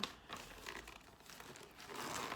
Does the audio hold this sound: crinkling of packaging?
yes